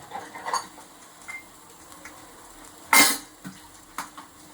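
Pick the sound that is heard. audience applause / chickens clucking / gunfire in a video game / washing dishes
washing dishes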